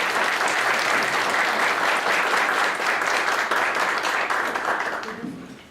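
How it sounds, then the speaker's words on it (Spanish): A lecture-hall audience gives sustained, dense applause to welcome a speaker to a law talk, the clapping holding steady before tapering off at the end. "les pido que recibamos al maestro con un aplauso"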